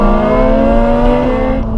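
A Ferrari 458 with a flat-plane-crank V8 revving loud and close, a sustained high, steady engine wail with strong harmonic tone and no voices.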